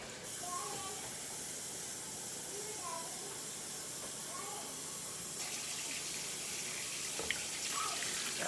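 Water pours steadily with a continuous hissing rush, about 2.5 cups filling a pot of red beans at close range for several seconds.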